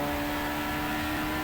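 Engine drone of a racing car in the Monoposto racing game at Silverstone, a steady, fairly faint tonal hum holding an even pitch throughout with no talk.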